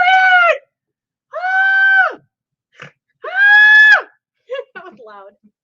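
Three long, loud, strained vocal cries, each about a second, alternate with a short snort and a run of choppy snorting and laughing sounds, all close to the microphone in a quiet room.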